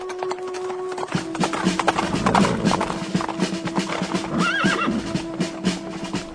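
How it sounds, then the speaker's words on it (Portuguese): Horses approach with hooves clopping over ground, and a horse whinnies briefly partway through; a steady mix of hoof beats and movement fills the scene. "veja alguns homens chegando a cavalo"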